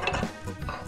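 A lid set onto a frying pan during cooking, a brief metallic clatter and rattle of cookware.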